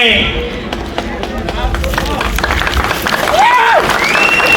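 Thin, scattered clapping rises from the crowd at a speaker's fiery public speech. Loud talking and a brief whistle-like tone sit over the patchy applause.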